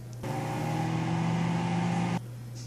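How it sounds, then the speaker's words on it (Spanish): Microwave oven running while heating a cajeta gelatin mixture, a steady close electric hum that starts abruptly, holds for about two seconds and cuts off. "Y ahora lo vamos a meter al microondas por 45 segundos"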